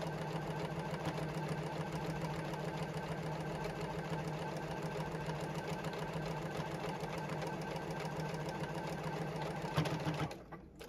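A JUKI sewing machine stitches steadily along the strapping edge of a tote bag, its rapid mechanical whir continuous and close for about ten seconds before stopping abruptly.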